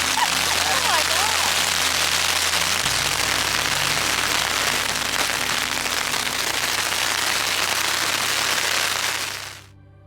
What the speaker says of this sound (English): As I lay awake listening to the sound of hail pounding on the tent